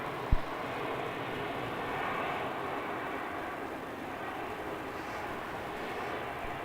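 A Velocity aircraft departs Melbourne Airport's runway 27 at night, a steady distant jet roar that holds throughout, with a single sharp thump near the start and no voices.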